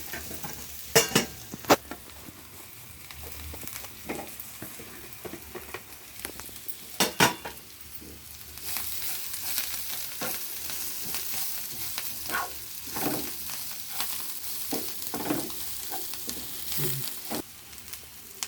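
A spoon stirs chili powder and coriander through a drumstick curry in a pan, scraping and clinking against the metal in irregular close strokes over a soft ongoing sizzle.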